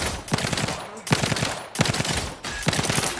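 Rapid automatic gunfire in the video game The Outer Worlds 2 rattles in several dense bursts separated by short pauses, loud and close.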